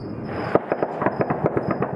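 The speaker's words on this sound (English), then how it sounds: "Fireworks and gunfire lighting up the sky in celebration." Celebratory fireworks and gunfire in Kabul crackle in a rapid irregular series of sharp pops and bangs, moderately distant, alone without talk.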